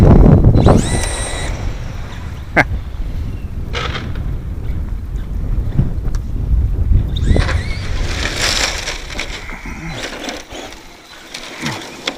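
Gusty wind buffets a microphone outdoors during an off-road RC car session, giving loud low rumbling bursts that swell and fade, mixed with brief higher whirring and clattering sounds.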